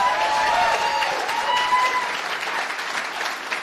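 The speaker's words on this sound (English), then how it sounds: "Please give him a nice round of applause." An audience claps for Senate candidate Royce White at a Republican primary debate, a steady wash of applause with a few cheers that fades gradually over several seconds.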